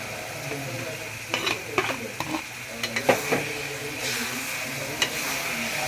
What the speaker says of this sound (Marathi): आपण यांना प्रॉपर मसाल्यात कोट करून घेणार आहे